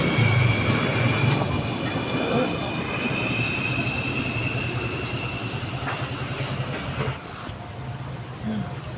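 An LRT train at Gombak, Kuala Lumpur, roars past as a loud, steady broadband rumble with a faint high whine, easing slightly toward the end, heard outdoors without talk.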